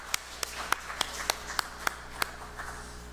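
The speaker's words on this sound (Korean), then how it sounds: "우리 하나님 앞에 한번 박수 한번 드리십시다" A church congregation at a worship service gives sharp, distinct claps at a steady rhythm of about three per second, rather sparse, over a quiet room tone.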